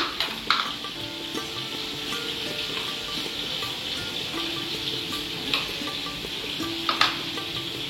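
Ginger and garlic fry for chicken korma with a steady close sizzle, and a spoon stirs and taps the pan at intervals, producing a few sharper scrapes and clinks.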